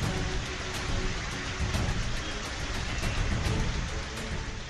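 Heavy monsoon rain pours steadily over waterlogged Mumbai streets, a dense, unbroken hiss of falling water at moderate level with no voices throughout.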